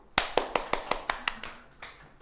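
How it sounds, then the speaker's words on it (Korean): A classroom of students claps in a chemistry lesson, about nine sharp, distinct hand claps in a quick, slightly uneven rhythm that fade toward the end. The clapping is close and moderately loud, with no talking. "박수!"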